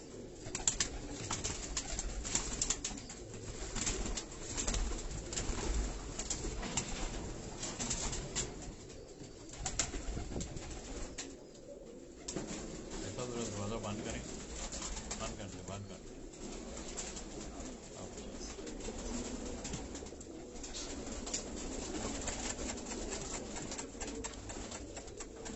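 Rani-breed pigeons coo softly on a Karachi rooftop amid a busy background, low throaty calls scattered through the clip with people talking nearby.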